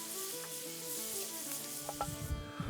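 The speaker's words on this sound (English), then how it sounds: "I'm going to let this set and sear a little bit." Salt pork sears and browns in a hot pan, giving a steady close sizzle with small pops and crackles toward the end.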